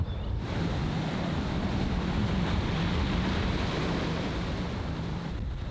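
Strong sea waves surge around Gageodo island in a continuous loud roar, with heavy wind buffeting the microphone throughout.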